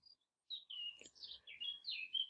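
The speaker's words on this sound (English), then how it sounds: "the bird noise you hear in the background, that's from my window open" Small birds chirp and tweet outside an open window, a run of clear high twittering calls that are faint and indoors-distant, with a brief pause before the song resumes.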